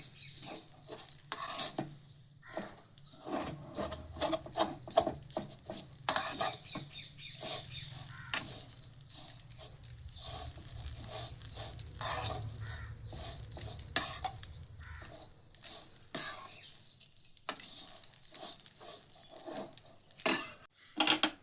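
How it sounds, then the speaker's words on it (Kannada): Vermicelli frying in ghee over a medium flame while being stirred, giving a steady close sizzle broken by frequent scraping and clinking strokes of the spoon against the pan, with no talking. "ನೋಡಿ ಮೀಡಿಯಮ್ ಫ್ಲೇಮಲ್ಲಿ ಇದನ್ನು ಫ್ರೈ ಮಾಡ್ಕೋಬೇಕು. ಈ ಶಾವಿಗೆನ ತುಪ್ಪದಲ್ಲಿ ಮಾಡಿದರೆ ತುಂಬ ಚೆನ್ನಾಗಿರುತ್ತೆ"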